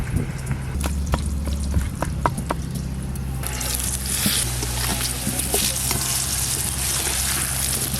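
Diced potatoes sizzle steadily in hot oil, crackling and popping close by while a spoon stirs and scrapes the pan.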